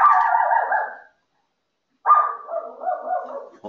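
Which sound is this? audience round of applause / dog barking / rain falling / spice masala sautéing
dog barking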